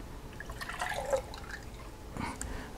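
Pine pollen water poured from bowls into a glass, soft trickling and dripping splashes close by, quiet and irregular with no talk.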